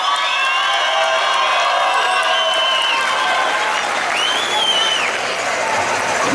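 A crowd at a bull-riding tournament in Capilla de Guadalupe applauds and cheers continuously, with whoops, whistles and a few shouting children mixed into the steady clapping.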